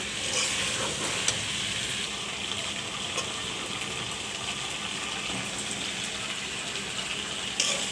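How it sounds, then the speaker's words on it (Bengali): Fried tilapia and okra gently stirred in a hot pan, a steady close sizzle with soft scraping strokes throughout and no talking. "এখন আমি এগুলো আলতোভাবে লাড়া দিব, বেশি জোরে লাড়া দেওয়া যাবে না, ভেন্ডিটা গলে যাবে।"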